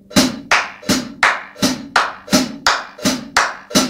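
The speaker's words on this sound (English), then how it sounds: "So synchronized clapping" Synchronized hand clapping in a drum lesson, sharp single claps landing evenly on a steady pulse, about eight close, loud strikes, each with a short ringing decay.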